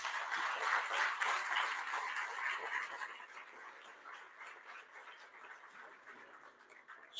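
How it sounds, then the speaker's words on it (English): Audience at a poetry and music event claps, soft scattered applause that is denser at first and thins out, fading toward quiet near the end. "A round of applause for him."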